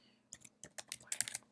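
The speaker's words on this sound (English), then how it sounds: "let me just start by typing in some code here" Someone types Python code on a computer keyboard. Quick, close-up key clicks come in uneven bursts, with a few taps, then a short pause, then a denser run of keystrokes.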